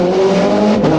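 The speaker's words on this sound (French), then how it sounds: "T'as ce bruit d'un V8 atmosphérique de plus de 500 chevaux derrière toi" A Ferrari's naturally aspirated V8 of over 500 horsepower roars loud and close, holding a strong, steady howl for a brief burst with no voices.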